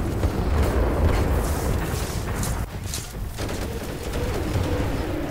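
Dense, loud gunfire from the video game Titanfall 2 rattles almost continuously in rapid bursts, with a brief dip partway through before the shooting resumes.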